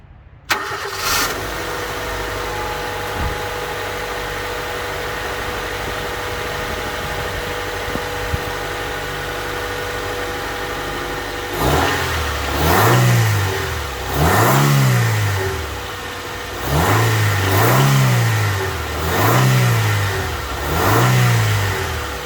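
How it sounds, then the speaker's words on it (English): A Honda Civic EK engine fitted with a short-arm cold air intake idles steadily, then revs up in a series of repeated throttle blips, each rising and falling, loud and close. "makes your car sound a little bit better when you step on the throttle"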